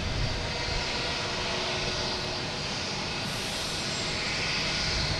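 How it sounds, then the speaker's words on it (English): JetBlue Airbus A320 taking off from Boston Logan, a loud continuous jet engine roar with hissing high-end whine, steady throughout with no talking. "We got JetBlue taking off"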